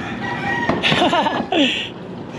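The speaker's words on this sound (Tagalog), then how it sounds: "May kalapate rito par." A pigeon in a rooftop loft gives a couple of short, close cooing calls over a soft background hum.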